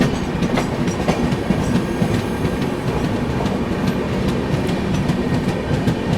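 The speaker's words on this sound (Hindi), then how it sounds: "अपनी दुरंतो एक्सप्रेस इसको यहीं पर ही ओवरटेक कर रही है गोल्डन टेम्पल को" A Duronto Express passes the Golden Temple Mail near Tugalakabad, and a loud, continuous rumble of rolling wheels with steady clickety-clack over the rail joints fills the whole stretch.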